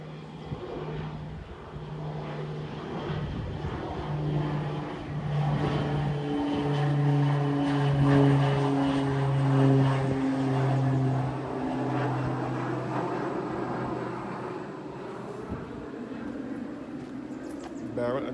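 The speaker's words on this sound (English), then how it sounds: "Well, more planes coming in." Propeller planes fly over Christ Church Parish churchyard in Barbados, making a steady droning engine hum that swells and fades slowly, with someone talking and outdoor noise under it.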